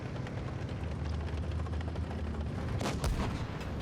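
A heavy tank cannon booms once in World of Tanks Blitz, a single muffled blast over a constant low engine rumble and battlefield drone.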